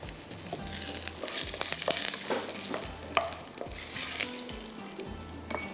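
Peanuts frying in hot oil with a steady, close crackling sizzle and the scrape and clatter of a stirring utensil in the pan, during preparation of a coconut prawn curry.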